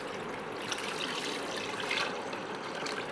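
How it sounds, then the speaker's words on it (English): Water pours from a hose into a home aquarium being set up, a soft continuous splashing wash that stays even and moderately quiet throughout. "you can see the water flowing"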